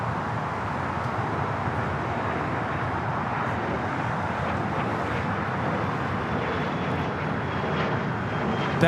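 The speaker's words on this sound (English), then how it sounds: "That is an Embraer Praetor 500 taking off to Las Vegas, FlexJet 423." An Embraer Praetor 500 business jet takes off at Los Angeles International Airport, a steady, broad engine roar heard from a distance, continuous for several seconds with some wind noise and no talking.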